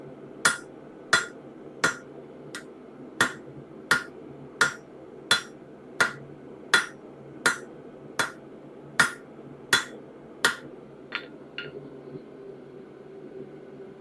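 A hand hammer strikes a steel spatula being forged for a grill set, giving about sixteen sharp, ringing blows at an even, unhurried pace. The blows stop and a few faint taps trail off at the end.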